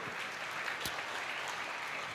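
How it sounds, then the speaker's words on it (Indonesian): A church congregation applauds loudly, a dense, even wash of many hands clapping that holds steady throughout. "Kasih tepuk tangan dulu yang dahsyat di atas kepalamu."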